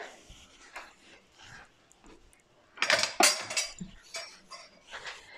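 Spinach fritter batter is stirred in a bowl with a utensil, giving a cluster of scraping, clinking strokes, louder in a brief burst midway, close and without talk.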